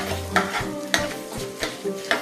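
Cashews roast in a pan over a low flame, a close steady sizzle broken by regular scraping strokes of a stirring spoon roughly every half second, with no talking.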